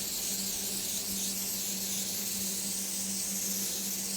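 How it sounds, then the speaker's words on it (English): Adhesive activator sprayed from an aerosol onto wood during mitre fixing, a steady close hiss running unbroken for several seconds with a faint underlying hum. "Spray this bit first."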